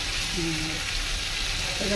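A fried cumin spice mix stirred in a pan while cooking a hilsa curry with potato and green banana; a steady, even sizzle continues throughout.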